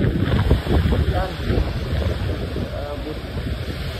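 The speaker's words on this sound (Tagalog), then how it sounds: "Grabe, oh, lakas na hangin." Strong typhoon wind from Typhoon Uwan in Daet, Camarines Norte, roaring in continuous loud buffeting gusts against the microphone, with a rushing, surf-like wash throughout.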